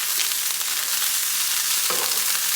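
Steady, loud sizzle of spring onion greens frying in a pan of fried rice, a continuous hiss with faint stirring scrapes, close up and without voices.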